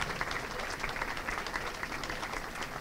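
Steady applause from a gathered crowd at a pro-life walk, many hands clapping in an even, continuous wash at moderate volume throughout.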